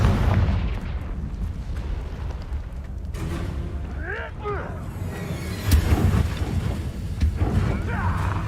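A Confringo explosion spell goes off in Hogwarts Legacy, a sharp blast and crackling burst rising over continuous game rumble, with a spoken voice and a brief creature cry amid the combat.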